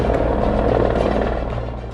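An Indian Army unit helicopter flies close by, its loud low rotor thump and engine drone pulsing steadily, then fading slightly as it moves off.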